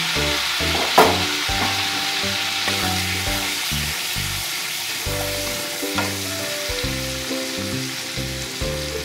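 A pinch of garam masala sizzles and fries in a hot pan for a garlic prawn curry, a steady close crackle with rhythmic stirring knocks of a spoon against the pan and no talk.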